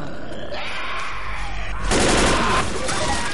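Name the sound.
gunfire in the Left 4 Dead video game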